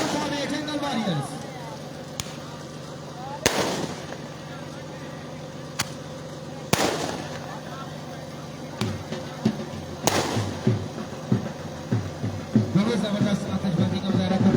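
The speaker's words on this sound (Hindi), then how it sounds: "जबरदस्त आतिशबाजी का मुजाहरा करते हुए" Fireworks burst at a cricket league event in Dokota as a team makes its entrance, several sharp bangs spaced seconds apart and then a rapid crackle of smaller pops, loud and outdoors over crowd noise and talk.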